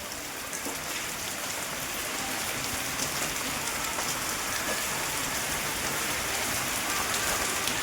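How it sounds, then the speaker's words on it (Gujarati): Monsoon rain falls steadily on surfaces near a home, a dense, even hiss that runs unbroken and moderately loud with no voices. "વરસાદી માહોલ એકદમ થઈ ગયું છે, વરસાદ ચાલુ છે."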